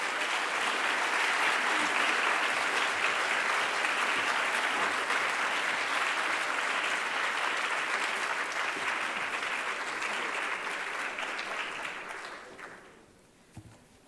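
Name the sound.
audience applause at award ceremony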